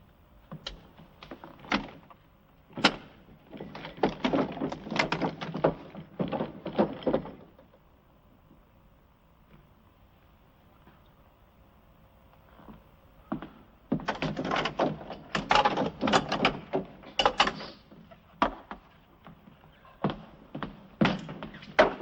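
Sealed drawers being tugged at in a dark room, bursts of rattling, thumping and scraping wood in two clusters separated by a quiet stretch, with a few sharp knocks.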